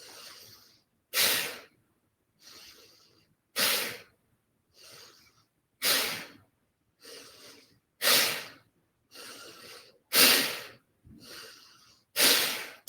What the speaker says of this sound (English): Breath coming out of the nose.